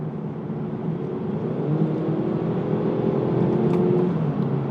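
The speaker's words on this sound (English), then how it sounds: "We'd get out of custom, we go into sport, do a highway merge, see how that is." A 2020 Kia Stinger GT-Line with a 2.0L turbo and AWD pulls hard in sport mode onto a highway, its engine a steady, loud drone heard from inside the cabin that swells as speed builds.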